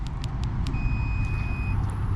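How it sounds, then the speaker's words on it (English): A truck's automatic tailgate, triggered from the key fob, gives several short high beeps and then a longer tone over a steady low rumble. "It'll make a beeping sound and start lowering itself."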